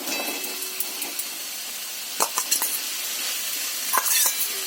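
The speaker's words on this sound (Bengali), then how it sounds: "এরপরে এই যে চাল আর আলু যে ভাজা আছে এটা দিয়ে দেবো।" Fried rice and fried potatoes added to a pan with a little water and stirred, giving a steady sizzling hiss broken by a few sharp scraping stir strokes near the middle and end, close and moderately loud.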